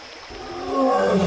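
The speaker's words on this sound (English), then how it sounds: "the lioness let out a low, rumbling call, both urging and reassuring" A lioness gives a low, rumbling call on the shore of the Mara River, a single swelling growl that builds in loudness over about a second, close and clear with no talking.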